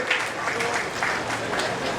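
A crowd at an outdoor government water-conservation event in Bhopal claps for a legislator, a moderate, continuous patter of hands that stays fairly even throughout, with faint voices mixed underneath.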